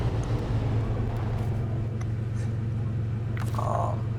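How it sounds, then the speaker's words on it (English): A truck engine idles in the video game SnowRunner, a steady low droning rumble that holds evenly throughout, with a faint short whine near the end. "We're gonna shut off the engine"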